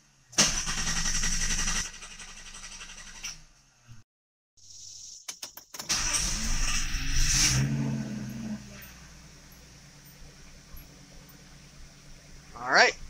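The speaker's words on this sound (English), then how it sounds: "We're going to go and start the car." Datsun 280ZX engine, non-turbo, cranking after a fuel filter change: bursts of starter churning separated by pauses, then it catches and settles into a steady idle, with brief clicks between attempts.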